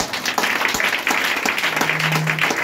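Church congregation clapping and cheering together in a warm, dense burst of applause that holds steady, with scattered shouts and a sustained tone rising near the end.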